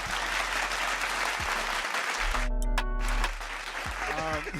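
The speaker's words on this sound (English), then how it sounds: "Those claps are a bit loud still." Loud, dense clapping from a crowd at a hip hop podcast taping, a steady wash of applause that runs throughout, with a brief tonal interruption midway.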